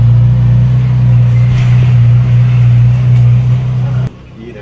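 A new 2022 Kawasaki Z900RS motorcycle engine revs with a steady low, droning exhaust note on a snowy day, loud and close, continuing for about four seconds before cutting off abruptly.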